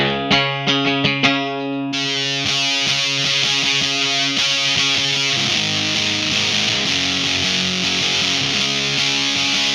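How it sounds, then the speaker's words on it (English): A clean electric guitar rings out a few separate plucked notes, then changes to a thick, heavily distorted tone from a Boss HM-2 Heavy Metal pedal and keeps playing loud and sustained. "Here's a clean guitar."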